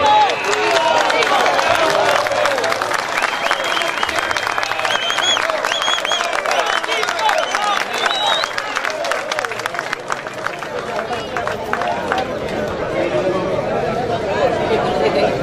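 Audience applauding an engineer at a gathering, dense and steady clapping with crowd murmur running throughout, the applause holding at full strength for the whole stretch.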